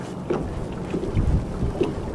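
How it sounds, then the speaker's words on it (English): Rain starting to fall outdoors while bass fishing, a dense low rumble of drops and wind with a few louder splats, steady and close, with no speech. "it has started to rain, which I am not equipped to deal with"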